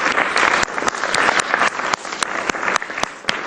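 An audience claps in celebration of India's T20 World Cup cricket win, a loud dense spread of hands clapping broken by sharp percussive hits throughout.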